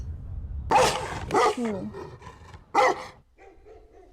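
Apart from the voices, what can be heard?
dogs barking in The Haunting of Hill House episode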